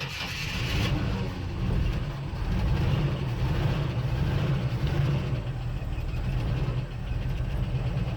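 A 1976 postal Jeep, long parked in the woods, runs with a rough, heavy idle close by, its low engine rumble steady and loud with slight uneven surges and a brief higher-pitched whine at the start.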